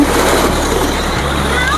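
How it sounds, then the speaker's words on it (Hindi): Steady rushing, splashing water from a waterfall at Kasar Devi in the hills of Uttarakhand, loud and close throughout, with a voice speaking over it. "देखिए कितना सुंदर झरना है, बहुत ही सुंदर लग रहा है यहाँ पर।"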